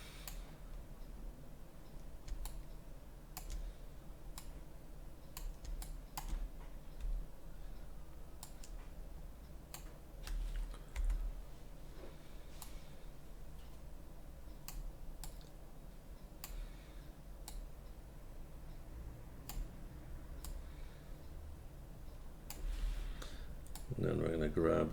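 Computer keyboard keys pressed while working in Maya 2025, sparse single clicks scattered over a low hum, with a voice talking at the end.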